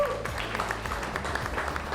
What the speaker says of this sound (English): Fishermen, let's give everybody here a big round of applause.